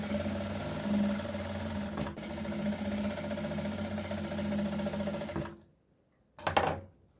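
A sewing machine stitches fabric slowly while a churidar top is repaired, giving a steady motor hum with a soft stitching rhythm that stops abruptly, then a brief clattering burst after a pause.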